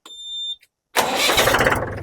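A high electronic tone beeps, then after a short pause a heavy tractor engine with a new battery cranks and catches, rumbling loudly and settling into a rough idle.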